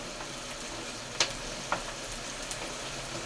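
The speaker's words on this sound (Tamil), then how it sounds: "நல்லா வெங்காயம் நம்மளுக்கு வதங்கட்டும்" Onions sautéing in a pan while cooking dried fish thokku, with a steady soft sizzle and a couple of brief clinks from stirring. No one speaks.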